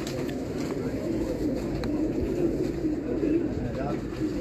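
A champion pigeon coos in a low, steady rumble that carries on throughout, close by, with faint clicks and background noise around it.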